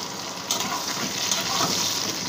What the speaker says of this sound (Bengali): একদম লাল লাল করে ভেজেছি